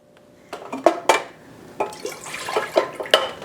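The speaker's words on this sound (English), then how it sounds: "I add 220 grams of water" Water poured into a kettle for brewing tea, a series of short splashing pours and clinks, close and fairly loud with quiet gaps between.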